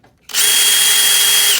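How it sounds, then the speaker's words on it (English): A power drill bores a hole through the gel coat of a Cobra 427SC replica body for quick jack bumpers, a loud, steady high-pitched whine that starts abruptly after a brief quiet moment and holds constant. "to turn and drill the hole on the bias."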